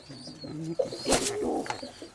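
Domestic pigeons coo beside their nest of squabs during breeding season while a defensive parent bird flutters nearby; low, rolling coos repeat in short phrases at close range with a faint chirp overhead.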